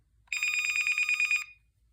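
Ringtone 1 of an AT&T 9410 cordless phone with shattered antennas: a single loud electronic trill of rapid warbling pulses lasting just over a second, close and clear, ending abruptly with no voices.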